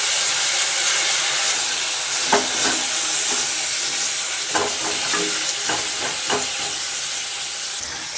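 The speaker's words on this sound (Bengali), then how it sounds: "সিমটা ভাজছি, সাইডে একটু তেল দিচ্ছি।" Flat beans frying in oil in a pan sizzle and hiss loudly and steadily up close, broken by several sharp clicks and scrapes of stirring.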